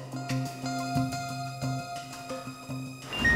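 A mobile phone ringtone plays a repeating melodic pattern in steady pulses, clear and fairly close, with no talking over it.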